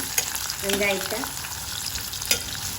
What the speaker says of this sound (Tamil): இப்போ இந்த வெங்காயத்தையும் இது கூட நம்ம சேர்த்துக்கலாம். இப்போ நம்ம இதை நல்லா வதக்கி எடுத்துக்கலாம்.